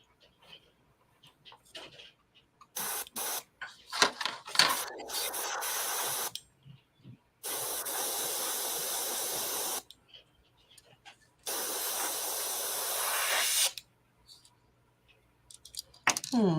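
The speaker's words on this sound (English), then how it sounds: "I think I fixed my airbrush again." An airbrush, just repaired, sprays in three long hissing bursts of about two to four seconds each, separated by short clicks and handling noises, close to the microphone with no one talking.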